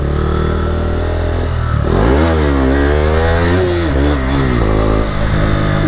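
Yamaha R15 motorcycle engine pulling away from a stop, revs dipping then climbing in repeated rising sweeps as it shifts through gears, loud and close with steady road roar and no talking.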